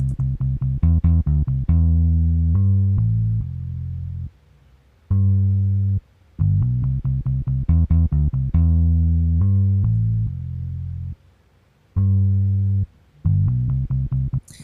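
A synthesized bass line from an Ibanez bass plugin plays a choppy, repeating reggae riff of short plucked notes with brief pauses between phrases, clean and upfront.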